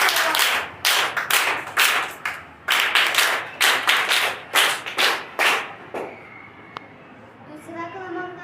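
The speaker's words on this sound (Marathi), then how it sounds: "त्यासाठी जोरदार टाळ्या वाजवा." Children and adults clap together for a prize winner at a school event. The hearty applause comes in rhythmic bursts for about six seconds, then fades as a voice begins speaking.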